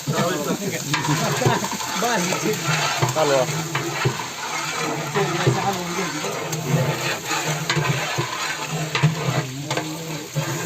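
Animal fat dropped onto hot onions for a village mutton curry cooked for a large crowd, a steady sizzle and frying crackle with stirring, under a man's speech and other voices.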